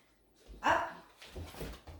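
Dogs make brief sounds indoors during a home workout: one louder yelp or whimper followed by softer snuffling and low noises, fairly close by.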